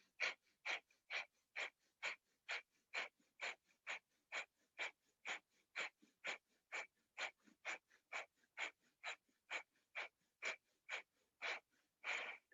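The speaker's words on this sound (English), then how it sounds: "Take a deep breath in, hands to the belly, 27 Bhastrika breath." Bhastrika pranayama breaths forced sharply through the nose, about thirty quick, even bellows-like puffs in a steady rhythm, close and fairly soft, alone with no talk.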